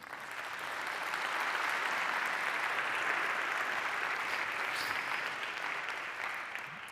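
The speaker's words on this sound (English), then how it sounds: "please, a round of applause for these people" A conference audience gives a sustained round of applause, a thick, even wash of clapping that swells and holds for several seconds before easing slightly at the end.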